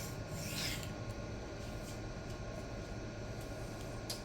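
A Kizer Baby knife with a 154CM steel blade is drawn across an Atoma 140 diamond plate, making a steady, close, gritty rasping scrape that continues throughout, with faint sharper strokes.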